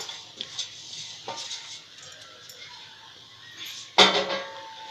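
Roasted coconut stirred in a pan while making karanji filling, soft intermittent scraping with a few small clinks and a sharper metallic clatter near the end, quiet and close.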